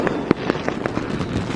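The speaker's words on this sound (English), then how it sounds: "That night, Thomas and James watched the fireworks together." Fireworks burst in a Trainz railway animation, a rapid series of sharp crackling pops and booms, one louder bang standing out among steady fizzing bursts, dense and continuous.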